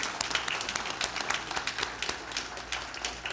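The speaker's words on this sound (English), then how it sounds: "Would you give them a round of applause, please?" Applause at an annual members meeting for a credit union's nominating committee: a room full of people clapping steadily, with crisp individual claps close by, and no talk over it.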